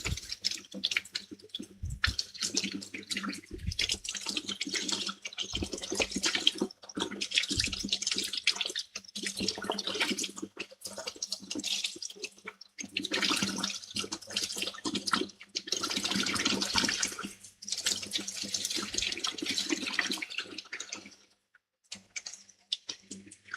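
Water runs from a kitchen tap during rinsing, a splashy hiss in uneven stretches broken by brief pauses and small clinks, close by and mostly without talk.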